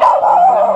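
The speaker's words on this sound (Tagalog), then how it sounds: "Aso po!" A dog in a barangay along a railway gives one loud, close, whiny bark lasting under a second.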